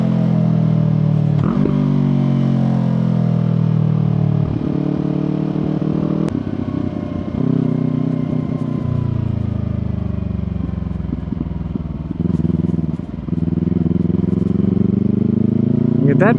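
A motorcycle rides a wet mountain road in Japan, its engine a steady, close drone with shifting revs and brief dips and surges throughout.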